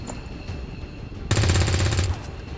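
A soldier's rapid burst of automatic gunfire in XCOM 2, a loud rattling volley lasting under a second that stands out sharply over quiet game ambience.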